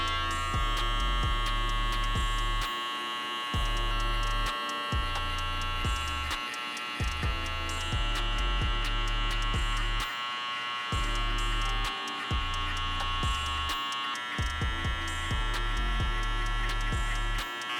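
Zero-gap hair clippers buzz steadily while cutting a men's fade guideline at the temple, a close electric hum with brief dips and restarts as the blade moves in short strokes, no talking.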